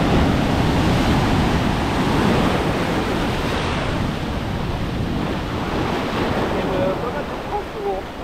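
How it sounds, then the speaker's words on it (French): Big ocean waves breaking on a beach in Bali: a loud, steady roar of surf and churning water that carries on throughout, with wind buffeting the microphone. "Quand même des sacrées vagues, hein."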